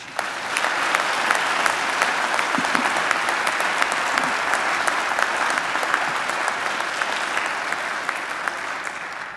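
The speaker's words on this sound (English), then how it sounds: "I think he deserves another great round of applause." Graduation ceremony audience gives Richard, a broadcaster and author, a loud, sustained round of applause, dense clapping from a large crowd holding steady for several seconds before easing slightly.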